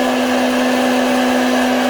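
A home coffee roaster tumbling a small batch of espresso beans gives off a steady, loud motorized whir with a constant hum, running continuously and alone without any talking.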